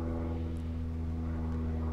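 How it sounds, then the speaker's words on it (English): An airplane passes overhead outdoors, giving a steady low droning hum with a constant engine tone that holds throughout at moderate, distant volume, with no talk. "Should we hold for plane?"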